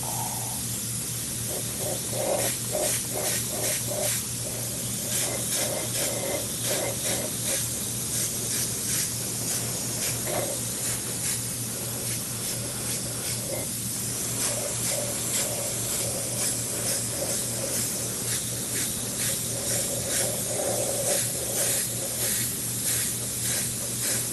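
An airbrush sprays acrylic craft paint onto 3D-printed models with a continuous close hiss, broken by short rhythmic pulses as the trigger is worked, under a steady low hum throughout.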